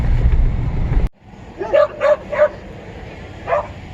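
A dog gives a few short, high yips and whimpers in quick succession, then one more after a pause, fairly close by.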